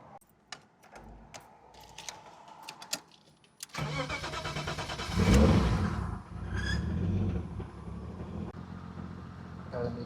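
A turbocharged BMW E36 M3 starts up after a few clicks and small handling noises: the starter cranks briefly, then the engine catches with a loud flare and settles into a steady, rumbling idle close by.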